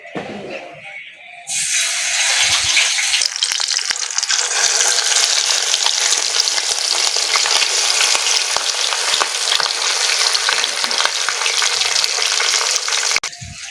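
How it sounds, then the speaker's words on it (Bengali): Turmeric-coated rohu fish pieces frying in plenty of hot oil, a loud, dense crackling sizzle that starts abruptly and runs continuously, close up, before cutting off at the end. "মাছগুলো ভাজা হোক"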